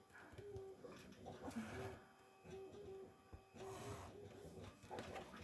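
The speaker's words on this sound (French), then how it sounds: "Là, vous entendez l'imprimante" Printer running with a steady mechanical whir and repeated short tonal pulses, moderately quiet, mixed with faint room noise and some background voice.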